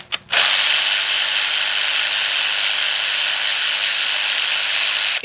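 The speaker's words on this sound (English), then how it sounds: "what you guys need to do is get you a battery-operated ratchet" A battery-operated ratchet whirs loudly and steadily at close range during a Kia/Hyundai timing chain replacement, starting after a brief click and running continuously for several seconds with no talk.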